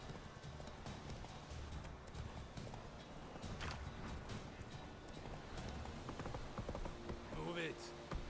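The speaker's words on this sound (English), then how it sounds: "The horse hooves is a soothing" Hoofbeats of Roach, the horse in The Witcher 3, clip-clop in a steady trotting rhythm throughout, with a brief whinny near the end and someone talking over the game sounds.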